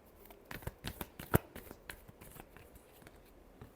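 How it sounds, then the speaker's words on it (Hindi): Tarot cards being shuffled by hand: a quick run of papery riffles and taps, with one sharp louder snap near the middle, close and alone. "last shuffle"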